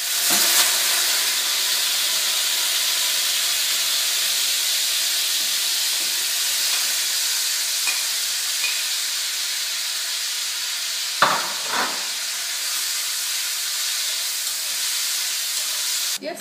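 Marinated tofu fries in oil in a hot wok with a continuous loud hiss and sizzle, close up, broken by a couple of brief scraping stirs, with no talk.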